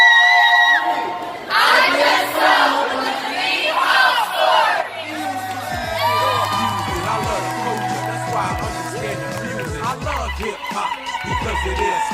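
Teen audience at the Impact Family Center roaring, cheering and shouting in a loud sustained burst, with excited voices and whoops overlapping over a low rumble.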